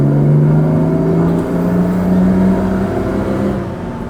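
A Jaguar Mark 2, its condenser fault just fixed, revs smoothly with a steady rising engine drone and whir, loud and close, easing off near the end with nobody talking.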